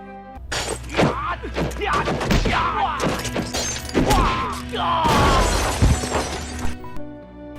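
Glass shattering during a fight in the 1992 film The Master as everything in a room is smashed, a rapid series of loud crashes, breaking and thuds with scattered shards, mixed with film soundtrack and some voices.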